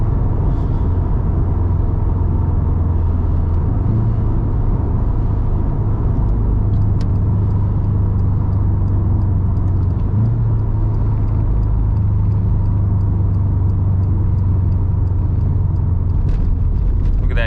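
A Subaru WRX STI fitted with new coilover suspension drives along the road, giving a steady low engine and road rumble with faint tire noise throughout, close and continuous, with no talk over it.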